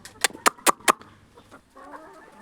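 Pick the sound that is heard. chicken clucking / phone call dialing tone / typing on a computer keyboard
chicken clucking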